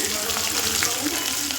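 Green chilies fry in hot oil with garlic and cumin, making a continuous close sizzle with faint crackling pops and light stirring.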